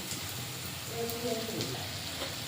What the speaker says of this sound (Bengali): যে মশলাটা ভালো করে কষে নেব